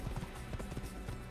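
A horse gallops in the Assassin's Creed video game, its hooves beating a quick, rhythmic clip-clop at moderate volume, fairly close, with no talking over it.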